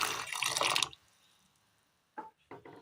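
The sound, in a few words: water being poured into a pan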